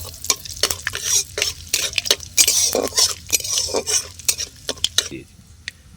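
Asafoetida and black cumin stirred in hot oil, a bright crackling sizzle with a series of quick scraping stirs and clinks of a spoon against the pan, close and uneven.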